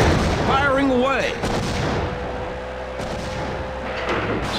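A vehicle weapon firing in a WWE Crush Hour car-combat game, with booming shots and rumbling blasts, a commentator talking over the start before the blasts continue alone.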